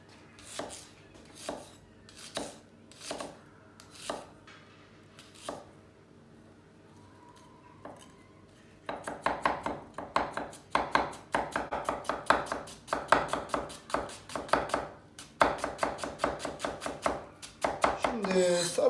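A knife chops onions finely on a board for Cypriot şeftali kebab, a kind of köfte. Single spaced cuts come first, then rapid, steady chopping builds into a dense, close rhythm.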